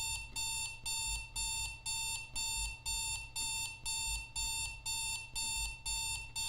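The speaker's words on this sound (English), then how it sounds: "The alarm is set off again." An alarm in the horror game Strange Night beeps in a steady, rapid pattern, roughly two pulses per second, loud and repetitive throughout with no talking.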